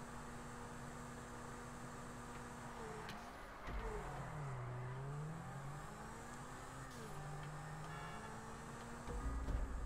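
Car engine drifting in GTA 5, a steady droning rev with pitch sweeping up and down through the slide, over a constant hiss of tire and road noise, loudest near the end.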